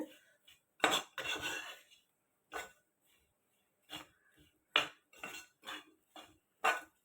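Chicken thoran being mixed in a pan, heard as a series of short, separate scraping and clattering strokes of a spoon against the pan, close and fairly loud, with quiet gaps between them and no talking.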